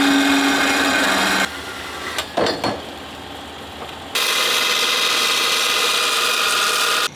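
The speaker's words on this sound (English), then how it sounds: "I'm just going to cut a little bit of 2-inch pipe and sleeve" A power tool cuts through 2-inch (50mm) pipe in a workshop, with a loud grinding whine at the start, a pause with some handling knocks and rubbing, then a second long, steady cutting pass.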